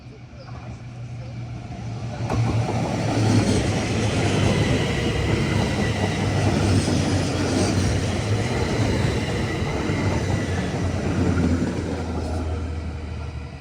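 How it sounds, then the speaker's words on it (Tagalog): A train rumbles steadily past on a forest railway along a hiking trail between Friesenberg and Uetliberg in Switzerland, a broad continuous roar of wheels and cars that swells quickly and holds loud for the rest of the clip. "may dadaan na train."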